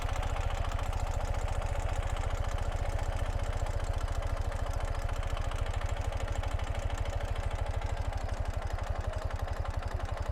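A 2018 Ural Gear Up sidecar motorcycle idles with a steady, rapid low thump, continuous and fairly faint, as it eases away uphill at near-idle revs.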